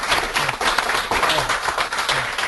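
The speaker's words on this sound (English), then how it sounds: "Can we all clap for you, sir" Steady applause from a webinar audience, many hands clapping at once in a dense, even patter, with a faint voice underneath.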